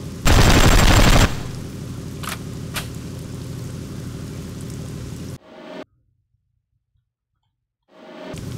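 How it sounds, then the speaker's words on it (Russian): Bow-mounted machine gun on a vehicle in the Ex Machina video game, one loud dense burst of rapid fire lasting about a second, then a low rumbling bed with a few clicks before it drops to silence. "Потому что иначе не пашет курсовой пулемет"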